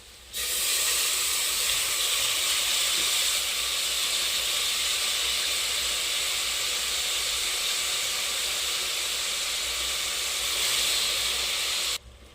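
Mutton keema dropped into a pan of fried onions sets off a loud, steady hiss of frying that holds evenly for about twelve seconds, close up, before cutting off abruptly, with no talking.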